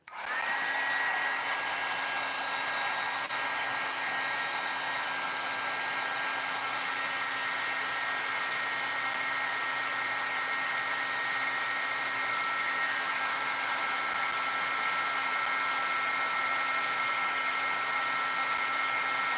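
A hair dryer blowing on a painting runs loud and close from a sharp start, a continuous whining whoosh with a steady high tone that holds for the whole stretch, no voices over it.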